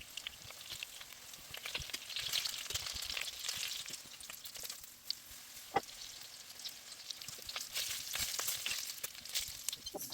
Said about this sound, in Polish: Smażymy z każdej strony na złocisto.